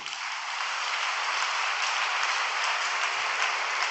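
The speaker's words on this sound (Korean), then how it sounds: "박수 한번 해주십시다." Audience applause at a church service, a steady dense clapping that holds at even strength from start to finish with no voices over it.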